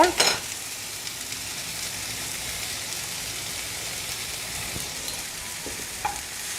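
Mint leaves, tomato and salt sauté in a hot pan for mint chutney, a steady bright sizzle with a clatter of stirring at the start and a faint tap later.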